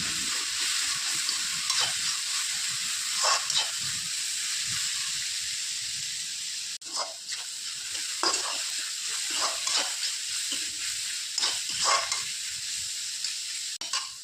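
Onions and curry leaves sauté for crab gravy, giving a bright, hissing sizzle carried by repeated scraping stirs in uneven bursts, with a brief dip partway through before the frying and stirring resume, close up and with no voices.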